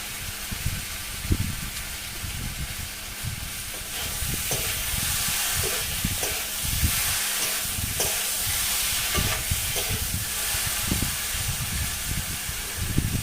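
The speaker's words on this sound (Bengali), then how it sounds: "মাছটাকে ভালোভাবে এই মশলার সাথে আমি কষে নেবো।" Catfish pieces sizzle while fried with spices, a steady close hiss broken by repeated scraping stirs and knocks against the pan, with no talking.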